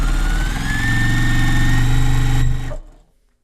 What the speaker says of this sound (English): So I'm going to try and sew through all of these.